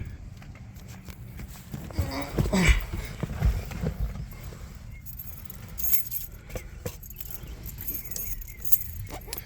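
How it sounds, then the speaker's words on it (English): Original keys to a 1959 Ford Thunderbird jangle and clink in the hand, with a burst of metallic rattling early on followed by lighter intermittent jingles, close and moderately loud with no talking. "So we've got the old keys, and you can see the wear on them."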